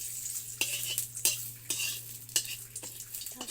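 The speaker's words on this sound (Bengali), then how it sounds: "দুটো তেজপাতা দিয়ে দেব।" Two bay leaves crackle and sizzle in hot oil for a small hilsa dish, a steady frying hiss broken by sharp spitting pops and a few stirring scrapes, close and fairly quiet with a low hum underneath.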